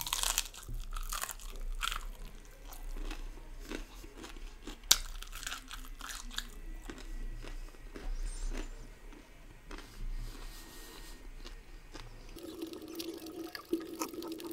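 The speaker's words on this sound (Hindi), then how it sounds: "हाँ भाई बहुत टाइम लग रहा है इन्हें चबाने में।" Crunchy mutton momos chewed close to the mic, with wet crunches and bites repeating steadily for several seconds and no talking.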